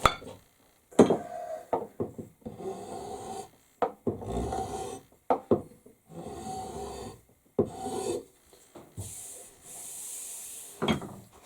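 A rasp files an axe, dry scraping strokes in a repeated rhythm of long pulls, each stroke a loud rasping rub followed by a brief pause, close and alone without speech.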